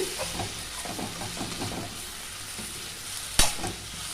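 Sliced okra stir-frying with spice powder in a pan for a quick Tamil-style poriyal: steady close sizzling and hissing with scraping stirs, plus one sharp clink of a spoon against the pan near the end.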